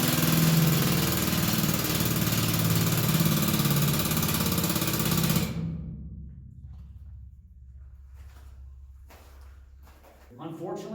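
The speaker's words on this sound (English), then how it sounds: "Try to imagine 20 of these drills on at the exact same time" A mining drill at the Consolidated Gold Mine roars loud and steady up close for several seconds, then cuts off, leaving a low rumble and scattered knocks before a voice begins.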